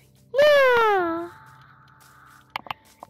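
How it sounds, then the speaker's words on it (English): A cat in Minecraft gives a single clear, rising-then-falling meow up close, followed by a few faint short clicks. "This is a crazy cat."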